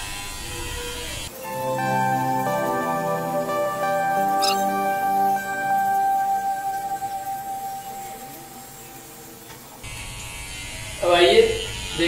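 A small electric hair trimmer buzzes steadily with a high whine, stops, and then a voice speaks briefly nearby.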